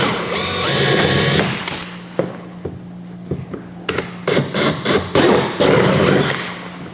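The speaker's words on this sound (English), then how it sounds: "I'm gonna take my 3/16 inch drill bit. I'm gonna start off by drilling that pilot hole" A power drill with a 3/16 inch bit bores a pilot hole in a kayak hull: bursts of high whining motor noise separated by pauses, thumps and short grinding pulses, close by.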